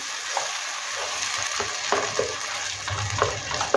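Medium-sized tomatoes frying in a pan for macaroni pasta with veggies, with a steady close sizzle and occasional stirring scrapes.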